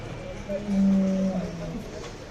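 A good-milking older Mothwad dairy cow at the Sangola Khillar cattle market lets out one long, low, loud moo over the steady murmur of the busy market.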